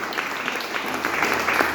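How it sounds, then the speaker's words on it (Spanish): Church congregation clapping hands together as an offering of praise, a steady patter of many hands filling the space, moderately loud and sustained with a faint voice underneath. "Denle fuerte la ofrenda de palmas al Señor"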